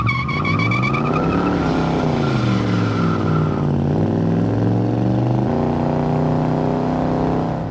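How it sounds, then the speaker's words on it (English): A 1970 Chevrolet Chevelle SS 396 big-block muscle car roars hard under heavy throttle, its engine note rising and shifting while the tires squeal continuously, loud and close with no talking. "We're gonna get on the throttle a little bit harder, see if it'll just roast the tires just a little bit,"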